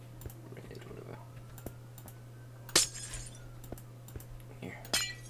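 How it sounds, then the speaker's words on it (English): Glass blocks shatter in Minecraft, two crisp breaking bursts a couple of seconds apart amid soft keyboard and mouse clicks over a steady low hum. "Hear the glass breaking sound on this."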